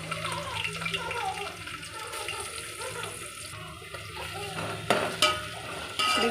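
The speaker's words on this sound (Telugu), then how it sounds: "ఇవి లైట్గా ఫ్రై అయిన తర్వాత దీనిలో ఆనియన్స్ యాడ్ చేసుకుందాం." Green chillies and onions fry in a pan for a mint and coriander biryani, a continuous close sizzle with scattered crackles and a few sharper knocks from the pan, while a voice talks over it.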